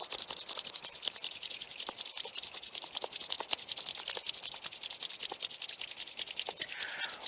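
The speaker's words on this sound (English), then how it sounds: "briskly rub your hands like this." Two hands rubbing briskly together right at the mic, a fast, steady, even rasping stroke that repeats many times without pause.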